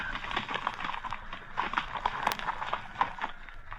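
Horses' hooves clip-clop in a steady walking rhythm on a path through snow-covered country in ancient Gaul, a mid-distance sound effect with a soft background wash.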